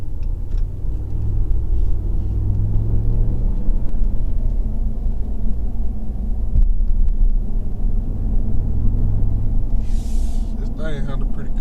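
A lifted 2020 RAM truck cruises along, its low road rumble and engine drone steady and loud inside the cab, with muffled voices over it.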